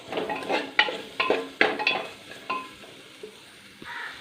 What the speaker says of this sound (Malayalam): നമുക്ക് പൊടികളും നമ്മൾ ചേർത്ത സവോളയും ഉരുളക്കിഴങ്ങും പച്ചമുളകും എല്ലാം കൂടി നന്നായിട്ടൊന്ന് മിക്സ് ചെയ്യാം